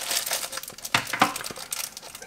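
Close, crisp crinkling of a thin plastic poly bag as a mini wireless backlit keyboard is unwrapped, with several sharp rustles and crackles over about two seconds and no talking.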